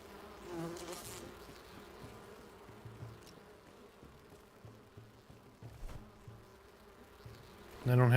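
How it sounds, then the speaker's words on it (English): Bees buzzing in the video game Enshrouded, a faint wavering drone that swells and fades as the insects move nearby, with scattered soft game noises and a louder thump at the end. "I hear bees coming to kill me."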